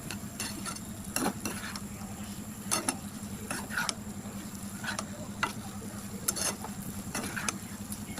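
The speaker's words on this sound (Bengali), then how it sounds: "ভালো করে আর একবার মিশিয়ে নেব।" A spoon stirring homemade chili chicken in a pan after water is added, a quiet steady sizzle broken by about a dozen sharp scraping and clinking strokes at irregular intervals, close by and with no speech.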